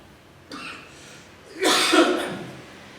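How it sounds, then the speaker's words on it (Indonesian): A short cough, then a louder, harsher cough follows a moment later, close to the microphone in a quiet room during a recorded lesson. "Maaf, saya sedikit batuk."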